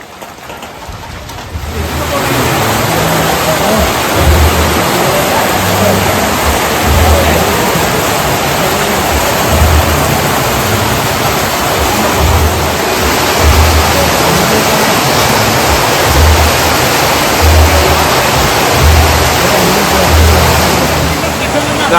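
Heavy rain pouring down steadily during a Sabarimala pilgrimage trek, a loud continuous roaring wash that begins abruptly after a couple of seconds and holds for the rest.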